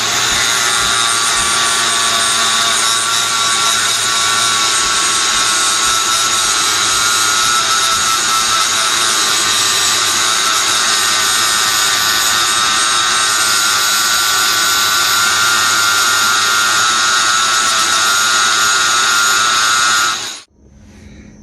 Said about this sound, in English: So we're going to get the grinder, grind the area clean.